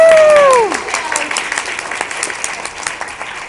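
Audience at a convention panel breaking into applause, dense clapping that starts just after a whistling whoop and continues steadily, with some voices mixed in.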